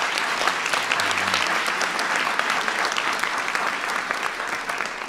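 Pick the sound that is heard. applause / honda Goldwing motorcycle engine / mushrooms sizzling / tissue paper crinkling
applause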